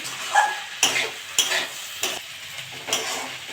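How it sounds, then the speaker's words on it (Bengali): Okra and potatoes stir-frying in a pan with a pinch of sugar, a soft sizzle under a steady rhythm of spatula scrapes and stirs, about six strokes in a row. "নেড়ে চেড়ে ভালো করে ভাজবো।"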